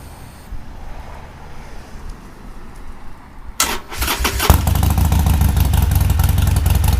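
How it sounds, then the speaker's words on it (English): A Harley Davidson motorcycle outdoors sits quietly, then its engine cranks and catches partway through, settling into a loud, steady idle up close. "we turn the switches on, turn the bike on."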